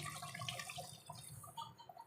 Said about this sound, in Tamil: இப்போ இந்த ஸ்டேஜில் நல்லா ஒரு பெரிய டம்ளர் தண்ணி ஆட் பண்ணிக்கலாம்